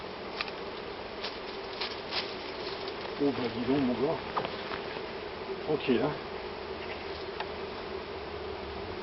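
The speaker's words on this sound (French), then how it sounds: "J'aime bien travailler les abeilles quand elles sont calmes comme ça." Steady low hum of a swarm of honeybees buzzing calmly throughout as it is collected in Loudéac, Brittany, with someone speaking briefly in a relaxed voice partway through.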